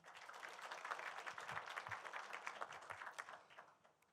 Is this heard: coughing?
no